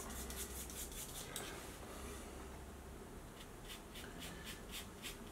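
Dry bristles rasp and scrub across a model surface as grey paint is brushed onto a Saint Seiya Death Queen Island diorama, a steady close-up rubbing texture with short repeated stroke bursts near the end.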